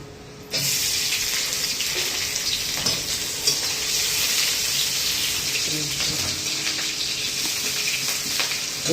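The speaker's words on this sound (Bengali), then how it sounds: "আমরা এবারে দিয়ে দেবো এর মধ্যে একটু পেঁয়াজ, কাঁচা লঙ্কা দিয়ে দিলাম।" Onion and green chilli frying in a generous amount of oil, a steady loud sizzle that starts abruptly and holds throughout, with faint stirring scrapes underneath.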